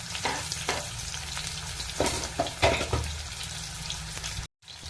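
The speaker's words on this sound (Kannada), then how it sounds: "ಸ್ವಲ್ಪ ಚೆನ್ನಾಗಿ ಫ್ರೈ ಆಗಲಿ" Sliced onion frying in oil with cumin seeds for a gravy, a loud continuous close sizzle with repeated stirring scrapes and clatters, ending in a brief silence, no voices.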